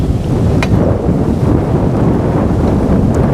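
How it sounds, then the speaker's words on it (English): Strong wind blasts across the microphone while someone fishes from a boat, producing a loud, constant roaring buffet that masks all other sound. "Wind again."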